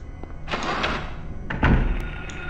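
A door in Silent Hill rattles and thuds with a couple of heavy wooden knocks, fairly close, with no voices.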